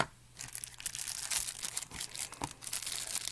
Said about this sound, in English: Comes in a plastic bag.